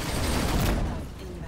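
Spaceship guns in Rebel Galaxy Outlaw fire as a dense, roaring burst that fills the moment, then tails off within about a second.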